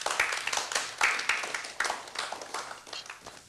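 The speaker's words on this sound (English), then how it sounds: "Let's have a big round of applause for them." Scattered audience clapping for a team at an inter-school science quiz show, with irregular close handclaps in loose bursts that gradually thin and soften.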